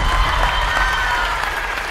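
Sustained audience applause in a television dance competition studio, a steady dense wash of many hands clapping at moderate loudness with a faint crowd murmur beneath.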